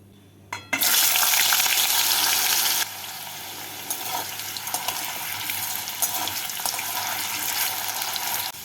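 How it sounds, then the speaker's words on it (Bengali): Potatoes frying in hot white oil, a loud burst of sizzling as they go into the pan, settling into a steady crackling fry that runs on without any talk. "এর মধ্যে প্রথমে আমি আলুগুলোকে দিয়ে লাল করে ভেজে তুলে নেবো"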